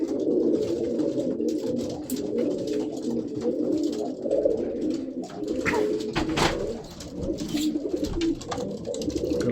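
Red Perm pigeons coo in a continuous low, throaty murmur, several birds close by with a few brief rustles and calls over it, and no one talking.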